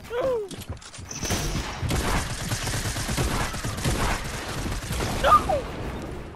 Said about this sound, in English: Someone's shooting us down.